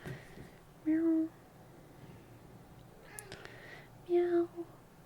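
A house cat meows twice indoors, two short, clear, close calls separated by a few seconds of quiet room tone.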